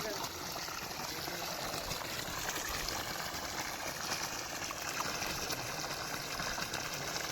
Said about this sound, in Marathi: तर बघू शकता आता हळूहळू पाणी प्रेशर वाढतोय